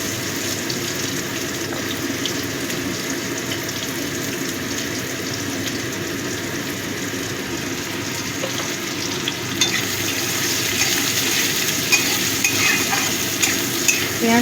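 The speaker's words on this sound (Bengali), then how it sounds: "জিরেটা ভালো মতো ভাজা হয়ে গেছে, এবার আমি দিয়ে দিচ্ছি পেঁয়াজ কুচি।" Chopped onion goes into hot oil where whole cumin has been frying, raising a loud, dense, watery crackle and sizzle that runs steadily and swells slightly as stirring clatters in; no voices.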